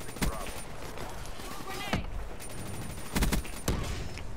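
Gorgon gun fire in Black Ops 3: a few sharp, loud shots ring out in separate bursts, spaced out over a steady game background.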